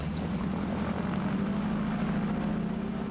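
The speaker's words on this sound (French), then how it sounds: "Le fascinant survol d'un territoire à partir d'un avion de brousse a toujours singulièrement captivé les fervents de découverte." Steady, loud propeller drone of a bush plane in flight over wilderness terrain, heard from inside the cabin as a constant engine roar with no talk.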